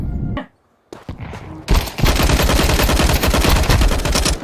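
Rapid automatic gunfire in Counter-Strike 2 on the Dust 2 map, a couple of isolated shots and a short gap, then a loud sustained burst of fire, close and aggressive, with no talking.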